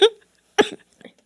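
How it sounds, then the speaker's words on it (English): Person with Covid coughing twice into a nearby microphone, two sharp close coughs about half a second apart, the second slightly longer and rougher, then brief quiet rustles. "I muted your mic I could tell. because you were coughing"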